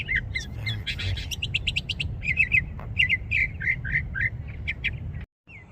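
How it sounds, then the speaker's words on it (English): A phainopepla, a black bird that eats mistletoe, gives a rapid series of sharp chirps and short calls in a desert preserve in Las Vegas, clear and fairly close over a low background rumble. "It's a black bird that eats mistletoe, of all things."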